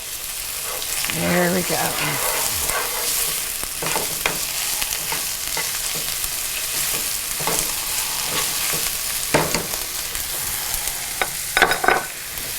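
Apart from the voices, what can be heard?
onions frying and stirred with beef base added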